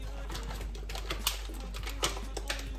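A knife chopping sausages on a board for a tortilla pizza topping, a series of quick, light, irregular taps against a constant low hum.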